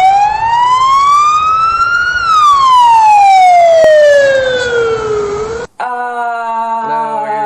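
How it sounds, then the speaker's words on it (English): An ambulance siren wails loud and close, sweeping slowly up and then down in pitch before cutting abruptly to a steadier, harsher tone near the end. "More ambulance crap."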